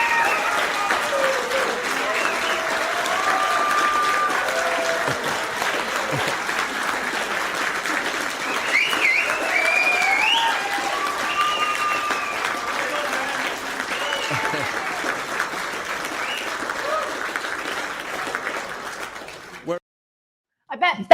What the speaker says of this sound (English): I was going to press the applause button